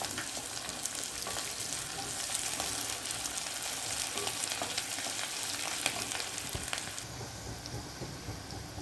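Chopped onion and green chili frying in a pan for a cashew curry, a dense continuous sizzle with scraping stir sounds, close and steady with no talking.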